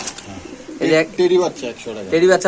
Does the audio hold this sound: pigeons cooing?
yes